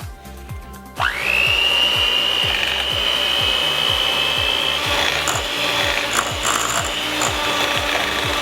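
An electric hand mixer beats egg yolks with sugar, giving a steady high motor whine over a rhythmic scraping rattle of beaters against the bowl, close and loud throughout with no speech.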